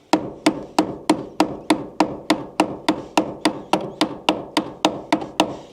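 Steady run of sharp metallic strikes from pliers used as a hammer while preparing a vehicle, about three per second, each a crisp impact with a short ringing decay, loud and close with no talk.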